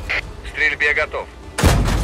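A Sherman VC Firefly tank cannon fires once in a video game: a single loud, broadband boom that lands abruptly near the end, after a stretch of radio-style crew speech.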